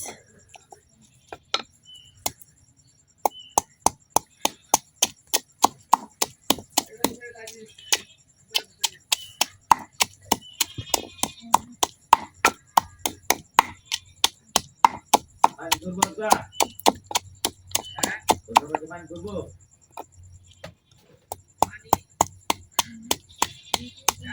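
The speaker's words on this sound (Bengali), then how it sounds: "সবগুলা পেঁয়াজ এখন এভাবে ছেঁচে নিলাম।" Onions being crushed by repeated pounding, likely on a grinding stone, while preparing spicy pitha cooked in banana leaf: a long run of sharp, steady thuds in close succession, loud and near, with brief pauses between bursts.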